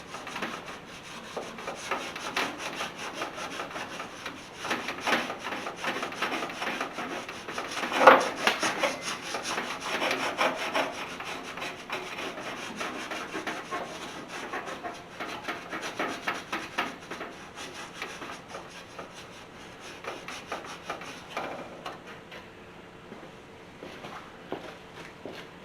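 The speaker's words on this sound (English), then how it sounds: "I'll just grab a piece of Scotch-Brite, clean the rest of the loose dirt off," Steady rough scrubbing with a Scotch-Brite pad, clearing loose dirt from the surface of a 1983 Chevrolet C10 squarebody truck, continuous back-and-forth rasping strokes heard close up for the whole stretch without talk.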